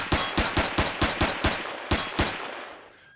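Gunfire from a weapon in the game Empyrion, fired inside an abandoned mine: about ten loud, sharp shots in a steady rapid rhythm, then a short fading tail, with no talking.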